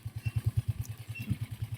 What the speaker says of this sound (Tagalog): nakasakay ako sa motor